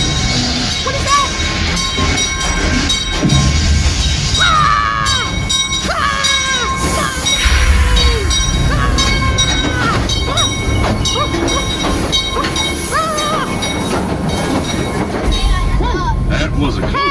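A mine train ride at Calico rumbling along its track, with loud wheel squeals and metallic screeches over a continuous rolling roar, plus excited voices and shouts mixed in throughout.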